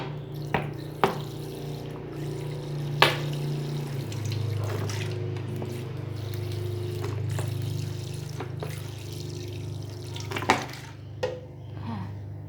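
Sauces are poured into a bowl to make a dipping sauce for vegetarian dumplings, giving a steady, soft liquid pour with a few sharp clinks and drips, fairly quiet and close, with no talk.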